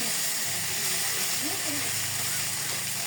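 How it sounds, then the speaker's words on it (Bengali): Cumin, coriander and ginger paste fries in hot oil with whole cumin for a fish curry, giving a steady, loud, close sizzling hiss that runs unbroken throughout. "ধনিয়া, জিরা, আদা খুব সুন্দর মতো ভেজে নিচ্ছি।"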